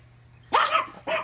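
A dog called Fred barks twice at close range: a sharp, loud bark followed by a shorter second one, with no one talking.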